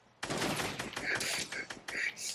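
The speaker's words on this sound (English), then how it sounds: "You just shot at me." Rapid gunfire in the video game Fortnite, a loud burst of several close shots in quick succession with a voice partly mixed in.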